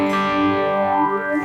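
Electric guitar played through a synth's static phaser effect, a sustained chord whose tone sweeps and shifts on its own, loud and close, with no talking.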